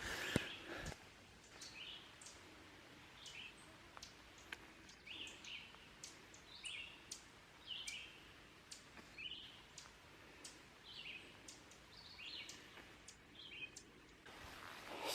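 Ovenbirds calling from their territory on a wooded Wisconsin hilltop, repeated short bright chirps and call notes scattered through the stretch, moderately near against a quiet outdoor background with no talking.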